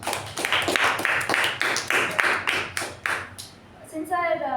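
Applause for a Toastmaster at a club meeting: a crowd claps in dense, steady bursts for about four seconds, then the clapping thins out and a voice begins speaking near the end.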